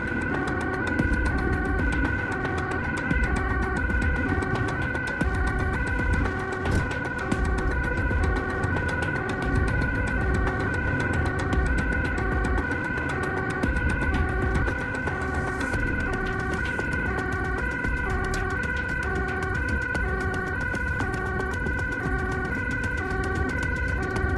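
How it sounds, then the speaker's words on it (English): A wailing Dutch ambulance siren cycles continuously and steadily, loud and close, during Amsterdam rush hour as it approaches a hospital entrance, with traffic rumble beneath it and no talking. "The sirens go off as we approach the entrance to the hospital."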